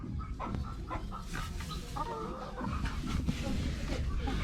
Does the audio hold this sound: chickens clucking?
yes